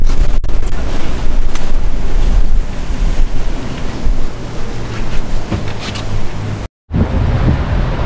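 Rough seas slosh and roar around an offshore fishing boat heading out to deep-drop for swordfish, with constant wind buffeting the microphone and a brief cut near the end.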